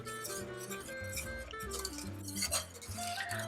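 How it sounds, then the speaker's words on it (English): Whisk clinking against a pot while milk tart filling cooks on low heat, quick light metallic scraping and taps, faint and close, with a steady kitchen hum beneath. "stirring, whisking rather."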